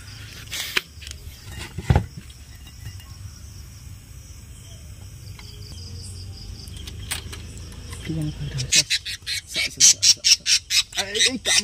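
A pet bird in a cage squawks while biting, giving harsh repeated shrieks that grow into a rapid loud run of calls toward the end, with people talking and scuffling nearby.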